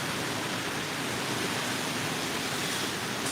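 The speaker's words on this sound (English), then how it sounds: "Oh, hear that wind gust?" A strong gust of wind from Hurricane Ian roars steadily, a broad continuous rushing noise close to the microphone with no voices.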